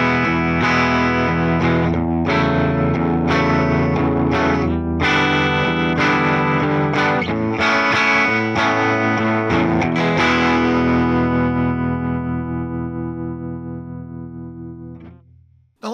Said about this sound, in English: Here's what the tremolo pedal sounds like at default settings.